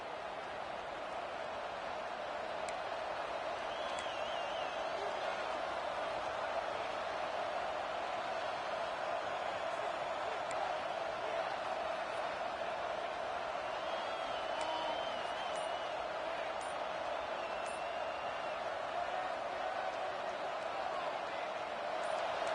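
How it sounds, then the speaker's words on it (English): A steady, loud stadium crowd roar from College Football 26, the Notre Dame dynasty game, sustained without a break for over twenty seconds, with faint whoops and cheers rising now and then out of the dense wash of noise. "The roar of the crowd trying to fuel this defense to keep them pinned in their own end."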